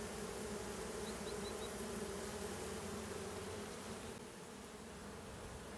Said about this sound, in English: Look at those bees all fanning there.